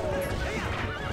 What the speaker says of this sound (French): les bombes effraient le cheval, ils sont sortis de la route